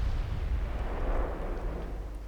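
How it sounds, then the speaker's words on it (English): Torpedoes strike a destroyer in the naval strategy game Ultimate Admiral Dreadnoughts, giving a heavy, booming explosion that rolls into a dense, continuous low rumble for a couple of seconds. "And we score even more torpedo hits on a DD."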